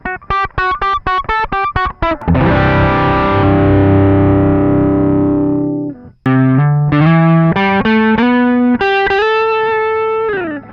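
Loud overdriven electric guitar through a Fulltone OCD pedal: choppy distorted strums, then a long sustained crunchy chord that fades, followed by a run of gritty single notes.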